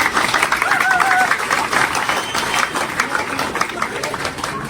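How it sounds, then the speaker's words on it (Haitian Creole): A crowd at a pan-Africanist speech in Haiti claps in a steady, dense wash of applause mixed with cheering voices, strong and sustained throughout. "Applaudissez-vous s'il vous plaît."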